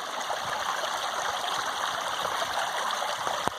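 A feeder creek runs steadily across a rocky bed in the woods, a continuous close rush of flowing water with bright trickling detail, alone without voices for a few seconds before a brief knock at the end.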